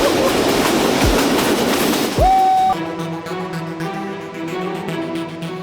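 A passenger train runs through an 892-foot tunnel on Pakistan's Thar desert line toward the Indian border, making a loud, steady rumble with rhythmic clickety-clack and a brief high squeal or whistle, all close and continuous.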